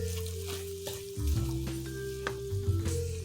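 Ground turkey with Italian seasoning sizzles in a pan, a low steady crackle broken by several soft scrapes and knocks as it is stirred, no voices.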